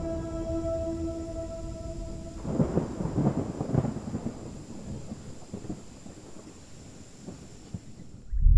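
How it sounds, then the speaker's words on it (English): Thunder rolls in deep, rumbling bursts over a forest as a storm approaches, swelling in the middle and then fading into a softer wash of rain and wind, with a faint steady tone overhead. "And a storm is on the way."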